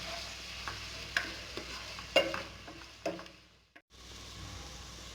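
Onions fry in a pan with spices, chilli powder and ginger-garlic paste, giving a soft steady sizzle. Several sharp spoon taps and scrapes sound against the pan, then a brief near-silent gap comes before the sizzle returns.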